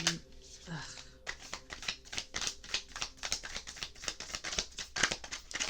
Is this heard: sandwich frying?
no